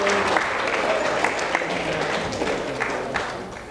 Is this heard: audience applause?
yes